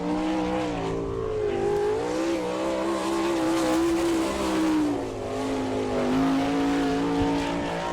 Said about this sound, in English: And trying right now in car number 15 from Bernoon, this is Chad Kemenaugh.